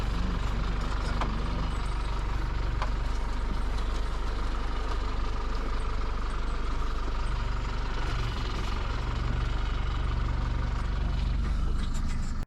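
A 4WD towing a trailer reverses through a sand dune in the Simpson Desert, its engine giving a steady, loud low rumble that holds throughout, heard up close without any voices.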